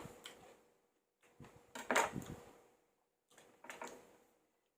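Three separate bursts of crisp cutting sounds, the middle one loudest, as a knife chops through something crunchy on a board, with pauses between.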